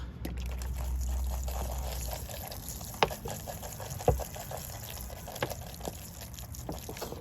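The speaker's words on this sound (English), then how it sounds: "Just get some water on it." Water is poured over a potted Norway maple bonsai in fresh bonsai soil, making a soft, quiet trickle and splash. A few sharper knocks from handling the pot stand out now and then.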